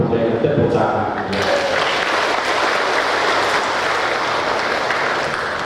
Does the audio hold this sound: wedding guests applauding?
yes